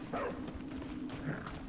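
Dogs in the video game Remnant: From the Ashes, heard as short barks and yips repeating over a steady game soundscape with no talk.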